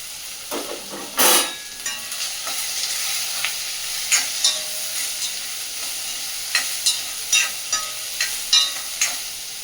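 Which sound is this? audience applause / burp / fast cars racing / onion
onion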